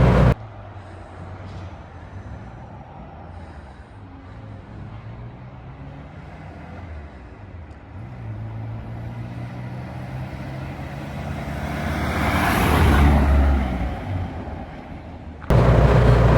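A Morris Minor van drives along the road, its engine a steady low drone that swells louder near the end before cutting off abruptly.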